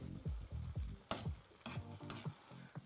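Penne stirred into sauce in a pan alongside veal, peas and sage, with rhythmic wet scraping and swirling strokes over a low sizzle, close and fairly quiet.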